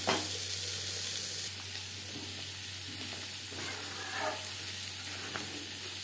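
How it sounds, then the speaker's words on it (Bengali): Boiled potatoes frying in mutton fat with salt and turmeric, a soft steady sizzle with a few stirring scrapes, close but quiet, no talking. "লবণ হলুদ দিয়ে আলু ভেজে নেব"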